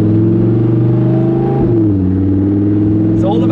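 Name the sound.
Lamborghini Huracan EVO Spyder engine and exhaust revving in sport mode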